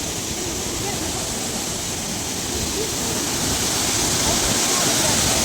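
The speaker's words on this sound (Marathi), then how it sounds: "असं धबधबा आहे बघा" A constant, dense roar of rushing water from Thoseghar waterfall in Maharashtra, India, loud and unbroken throughout, with no pauses.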